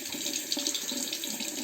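Steady rush of water from a tap, used to rinse a Muhle Rocca safety razor, running continuously and fairly close with no pauses.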